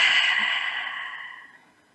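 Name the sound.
deep breath exhaled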